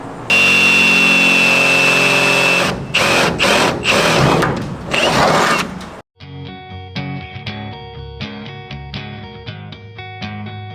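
A jigsaw cuts out a panel on a Mercedes Sprinter van for a Vanspeed Capsule install, a loud close buzzing whine with brief stutters for about six seconds, then music takes over.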